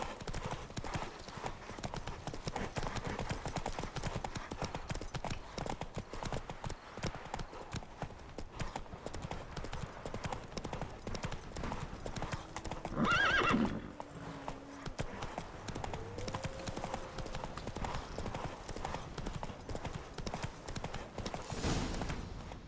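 A horse gallops in The Witcher 3: Wild Hunt, hooves clip-clopping in a steady, fast rhythm throughout. A brief voice and a short whinny-like call rise midway, with faint talk in the background.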